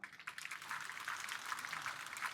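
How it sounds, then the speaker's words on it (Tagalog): Applause from an audience at a Filipino public event, a faint, continuous patter of many hands clapping, heard from a distance and sustained throughout. "Pwede ba ako makarinig ng isang malakas na palakpak?"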